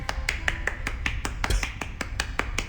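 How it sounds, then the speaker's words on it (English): Sharp claps from a single person ring out one after another in a quick, fairly steady rhythm, close and crisp, over a low rumbling background, in the video game Reverse 1999. "A single person applauding. A lone clap breaks the silence."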